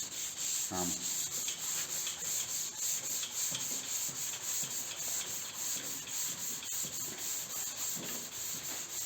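Continuous rough sanding, a steady scratchy rubbing of coarse sandpaper back and forth over a first coat of high build primer, close up with no voices.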